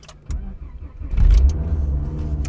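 A 2001-era Volvo S60/V70 engine starts in cold weather. A short starter crank catches into a loud, rumbling fast idle that holds steady nearby.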